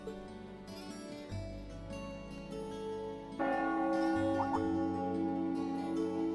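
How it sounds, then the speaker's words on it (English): Heimdall Cathedral's bell rings in the video game Trails of Cold Steel, a sustained, solemn tone that swells and grows louder partway through over a low, steady backdrop. "That must be Heimdall Cathedral's bell."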